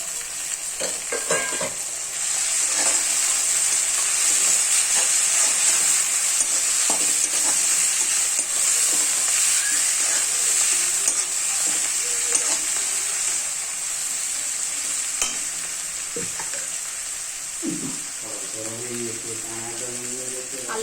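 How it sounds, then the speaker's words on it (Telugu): Onions fry in a pan for a chicken curry as coriander and mint are tossed in, a loud continuous sizzle with stirring knocks, and a voice speaks briefly near the end. "ఉల్లిగడ్డ అయితే వేగినాయి కొత్తిమీర పుదీనా వేస్తున్నా"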